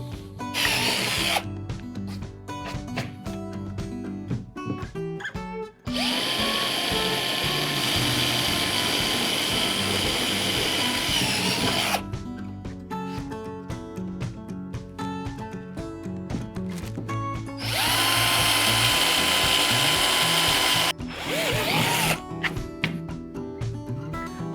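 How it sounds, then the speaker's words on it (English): A power drill with a 5/16 bit bores holes for a PowerPole mount on a Mirage Passport 12 boat, whining in several long bursts separated by short pauses, close and loud. "5/16 and drill that out"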